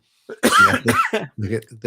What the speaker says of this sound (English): So, excuse me for my coughing